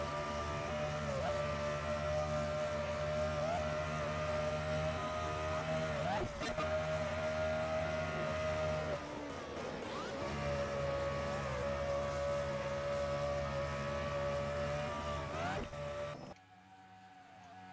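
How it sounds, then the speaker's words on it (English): The engine of the number 87 race car at Pocono, heard onboard in a racing video game. It gives a steady, loud, buzzing drone with slight pitch shifts and cuts off abruptly just before the end. "just listen to this engine."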